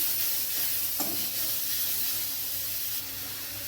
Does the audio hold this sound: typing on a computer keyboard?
no